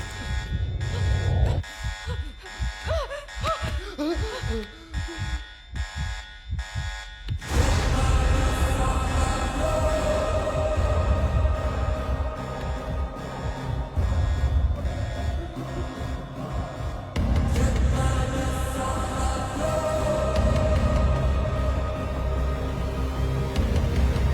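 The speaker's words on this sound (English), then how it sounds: "Someone press the emergency alarm." Harsh electronic buzzing of a hospital emergency alarm in a film scene, first in choppy pulses, then a loud sustained drone that drops briefly and resumes, with tones layered over it.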